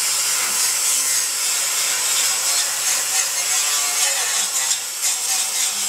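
A steady, harsh grinding hiss from a power tool with a finer disc running continuously against metal, smoothing a weld, loud and close, with slight wavering in pitch and no voices.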